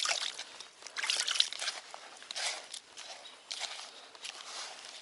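A little water is poured into carp-fishing groundbait, giving faint intermittent trickles and soft sloshing splashes in short bursts through a quiet background.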